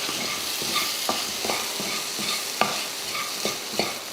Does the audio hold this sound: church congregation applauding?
no